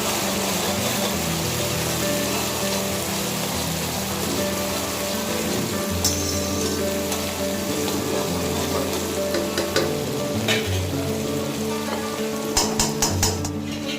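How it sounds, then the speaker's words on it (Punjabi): Onions frying in a pan over a lowered gas flame, a steady close sizzle with occasional stirring clicks and scrapes, unbroken for the whole stretch with no voices. "2 ਤੋਂ 3 ਮਿੰਟ ਤੱਕ ਆਪਾਂ ਪਿਆਜ਼ਾਂ ਨੂੰ ਭੁੰਨ ਲਵਾਂਗੇ"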